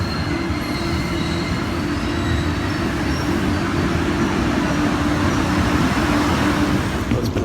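A Boston subway train loops around the Bowdoin Square terminal, its steady rumble and wheel noise continuous and close, with faint squealing tones threaded through the roar.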